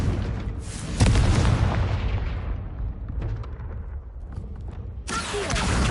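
A Confringo fire spell explodes in Hogwarts Legacy, a loud booming burst at about one second with a rumbling tail that fades, then another sharp burst near five seconds.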